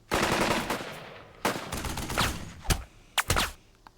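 Gunfire in the Burden of Command war game, loud bursts of machine-gun fire followed by several separate sharp volleys and single cracks, close and dense.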